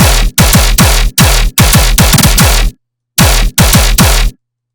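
A heavy dubstep gun bass synth fires loud, punchy bursts in a fast, driving rhythm, about eight hits broken by one short silent gap.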